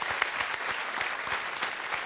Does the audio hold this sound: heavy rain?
no